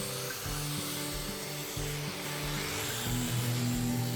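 Sanding an old wooden milking stool about a hundred years old, a continuous loud abrasive whir with a steady hum and shifting tone as the sander moves across the wood.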